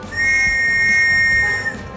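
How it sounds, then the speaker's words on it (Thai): A single long, steady blast from a hand whistle, close and loud, holding one shrill tone for well over a second before stopping. "ได้ยินนกหวีดแล้ว"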